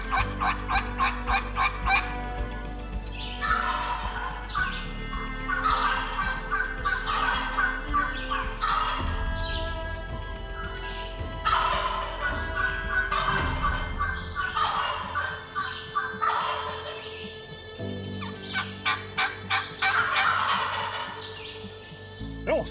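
Several wild turkeys gobble in bursts from various distances in a field in New Brunswick, with occasional clucks and a distant dog barking amid outdoor ambience.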